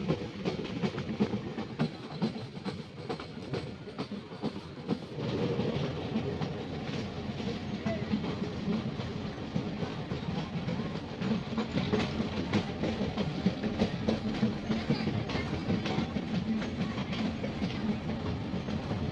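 A meter gauge Delvada passenger train runs along the rails through Gir National Park with a steady, loud rumble and rhythmic clatter of wheels over track joints, continuing throughout without voices.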